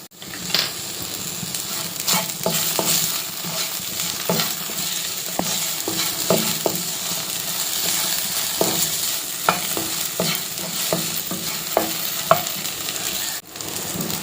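Lady's finger (okra) sautéed with turmeric and chilli powder, frying with a steady sizzle while a spatula scrapes and stirs in repeated strokes, close and fairly loud, with no speech.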